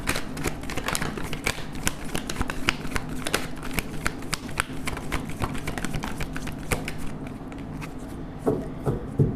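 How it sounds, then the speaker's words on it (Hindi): Tarot cards being shuffled in one continuous run of rapid riffling and flicking, close and steady, with no talk over it. "एक ही शफल करेंगे, जो भी कार्ड आएगा आएगा।"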